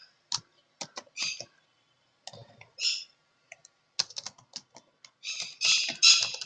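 Keyboard typing while entering Bachelor of Technology into an online UP Police SI/ASI application form: quick clusters of crisp key clicks separated by short pauses, close and clear with no talking.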